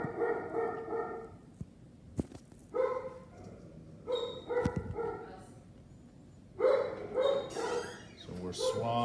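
Dogs bark in short bursts, with gaps of quiet between them, fairly close, plus a few sharp knocks and thumps in between as they jump against a door.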